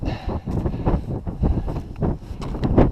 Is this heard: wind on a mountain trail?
yes